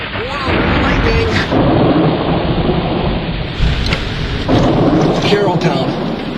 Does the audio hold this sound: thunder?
yes